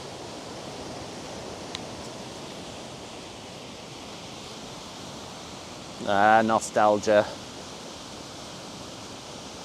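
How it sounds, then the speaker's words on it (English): Ireland's highest waterfall in the Wicklow Mountains roars as a steady broadband rush heard from the top on a cold, windy winter day; someone briefly speaks over it midway. "Top of the world, or at least top of Ireland's highest waterfall."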